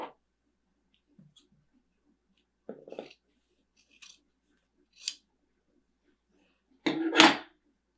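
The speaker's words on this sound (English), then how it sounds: "Now I'm going to trim off the excess fabric there." Scissors make a few sparse, quiet snips trimming excess fabric near a sewing machine, separated by pauses, with one louder cluster of cutting and handling noise near the end.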